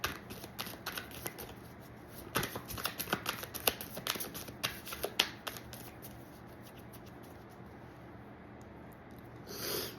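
Tarot cards shuffled by hand close up, a quick riffling flutter with soft slaps that thins out into quiet, with a brief rustle at the very end.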